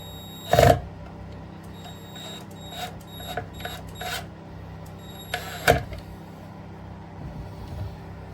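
An impact driver runs screws through rubber feet on a beginner woodworking build: two loud, short rattling bursts several seconds apart, with quieter clicks and handling knocks between them.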